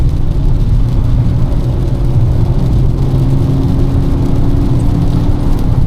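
A car's engine drones steadily as it accelerates hard in fifth gear from about 90 km/h while overtaking. The mid-pitched hum is loud, close and continuous, with road rumble underneath and no speech.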